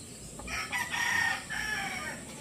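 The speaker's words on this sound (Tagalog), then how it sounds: "Manok." A native rooster crows near a rural farm and houses, one full drawn-out call rising and holding, moderately close over quiet background.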